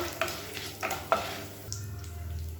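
Mustard seeds, urad dal, chana dal and curry leaves frying in hot oil in a pan, with soft sizzling, a few sharp crackles and pops, and the clink of a stirring spoon nearby.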